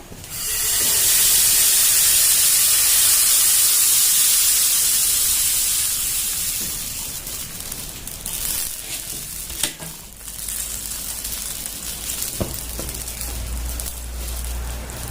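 Loud, steady sizzling and hissing as roti chapati batter hits a hot pan, easing into quieter frying with occasional taps of a utensil.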